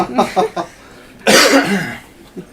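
One loud, harsh cough right up close into a microphone, after a few soft breathy sounds.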